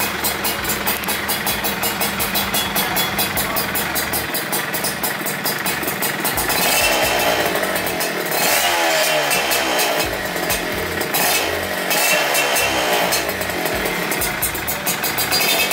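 Yamaha F1ZR two-stroke motorcycle fitted with a CLD C1 racing exhaust, revving loudly and close by, with a continuous buzzing engine note that rises and falls across the whole stretch and no voices.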